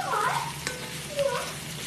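Pork and taro fry quietly in a pan with a soft steady sizzle, while a couple of brief squeaky tonal sounds rise above the cooking noise.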